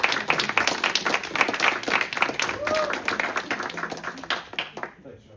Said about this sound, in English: A round of applause for Jonathan Broadbent, the voice of Geauga.